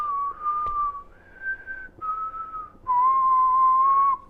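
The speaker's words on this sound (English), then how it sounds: "Isn't my whistle, like, really, like, deafening almost?" A person whistles a few sustained notes up close, loud and piercing, each held tone stepping to a new pitch with short gaps between.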